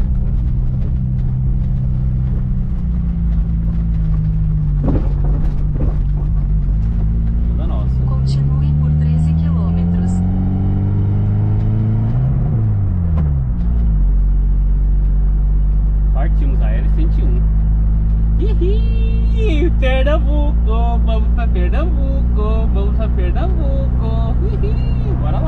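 A car cruising a highway near the Alagoas–Pernambuco border in Brazil, heard from inside as a steady loud engine drone and road rumble with rising and falling pitch as gears shift, music and a voice over it.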